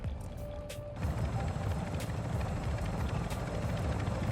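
A helicopter in the video game Call of Duty Warzone 2.0 DMZ drones steadily and loudly, its rotor chop swelling after the first second and holding a constant roar with no talk over it.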